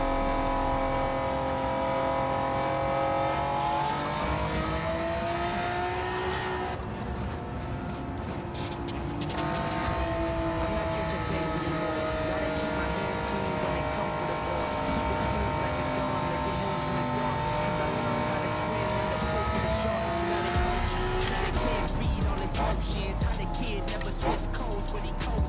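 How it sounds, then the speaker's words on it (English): A Honda NSX test race car in Gran Turismo 7 drives on track, its engine a steady, loud harmonic whine rising and dipping through gear changes for about twenty-five seconds, with faint tire noise. "It sounds so good, the NSX."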